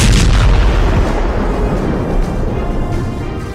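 Artillery fire and explosions from a Russian air strike on Ukrainian positions make a loud, continuous rumbling roar with layered booms that barely let up.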